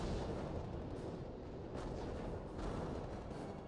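Artillery barrages in the strategy video game R.U.S.E., a dense continuous roar of rumbling blasts and booms that swells in a few heavier bursts, loud and sustained with no talk.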